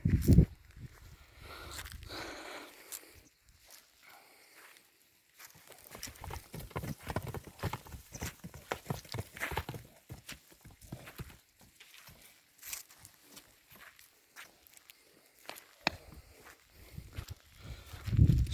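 Hooves clip-clop slowly on hard ground, irregular steps from mares and foals walking nearby, fairly quiet with a few louder knocks at the start and end.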